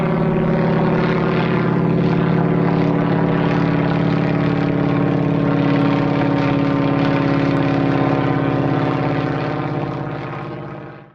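A Boeing Stearman biplane in flight, its radial engine and propeller droning steadily and loudly from close by, a constant deep throbbing roar that holds for most of the time before briefly fading at the end.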